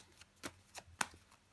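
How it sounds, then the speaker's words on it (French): Tarot cards being turned over and laid down one at a time during a reading, giving a few soft, brief slaps and flicks close by over near silence. "Mais nous allons recouvrir des cartes"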